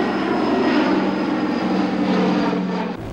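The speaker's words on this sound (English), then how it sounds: "probably the most famous airplane that people would recognize is the B-17" Piston engines of a B-17 bomber, a World War II four-engine propeller plane, drone in a loud, steady roar that holds throughout with a slight drop near the end.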